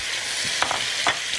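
Potatoes going into a hot pan of seasoned lamb shank (mozat dani) with salt and black pepper: steady, close sizzling and frying, with a couple of brief stirring scrapes and clatters.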